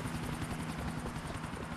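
A helicopter's steady rotor thump and engine drone fill the scene in GTA IV, a continuous rumbling chop with no voices.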